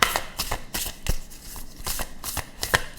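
Tarot cards being shuffled by hand, quick riffling flurries in close succession, crisp and near, with no speech over them.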